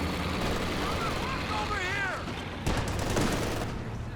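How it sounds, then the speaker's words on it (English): An incendiary shot and gunfire in a real-time strategy battle: a steady roar of combat with a sharp burst partway through, and a voice talking over the noise. "Good use of the incendiary shot"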